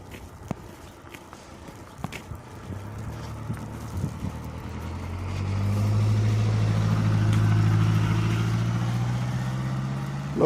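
Footsteps crunch at first, then a snow plow truck approaches with a deep engine rumble that swells and holds loud as it drives past.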